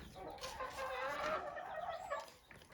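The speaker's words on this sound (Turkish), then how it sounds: "Yine maşallah tavuklarımız." Chickens cluck and murmur together in a coop in a steady, moderately close chorus, with no talking.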